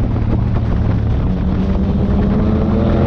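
A Yamaha MT-09 motorcycle engine roars in a loud, steady low drone for a few seconds, with heavy wind buffeting over it.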